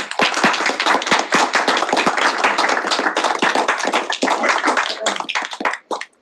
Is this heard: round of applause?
yes